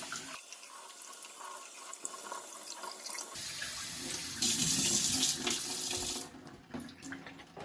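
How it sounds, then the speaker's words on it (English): Cold tap water runs steadily over jasmine rice in a strainer. The hiss of the flow changes and grows brighter partway through, then the stream is cut off and quieter dripping remains. "we're going to rinse it under cold water"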